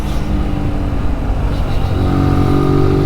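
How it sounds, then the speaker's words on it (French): A motorcycle on the mountain road at the Col de l'Espigoulier approaches with a rising, steady engine drone that grows louder and more tonal toward the end, under a rumbling low background. "Il y a de la moto quand même."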